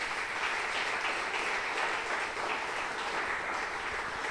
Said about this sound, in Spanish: Aplauda si pueden esta mañana.